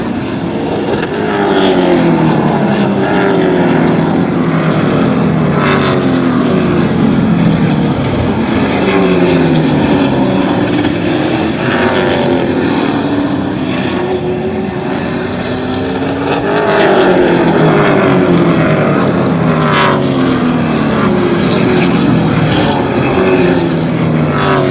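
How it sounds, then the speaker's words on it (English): Race cars roar around the Oyster Bed Speedway oval, their engines rising and falling in repeated sweeping passes, loud and continuous throughout. "Another near miss on turn 3 and 4 with Greg Proud getting a front row view to"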